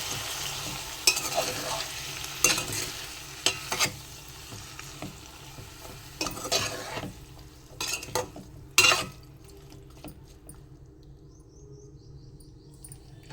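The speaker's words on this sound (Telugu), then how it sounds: "టమాటా కొద్దిగా మగ్గాలంటే ఉప్పు వేస్తున్నాం ఒకసారి తిప్పుకున్నాం" Tomato pieces and drumsticks cook in a pan for a curry, with a soft background sizzle and intermittent scraping stirs, louder clacks near the start and quieter simmering toward the end, no voices.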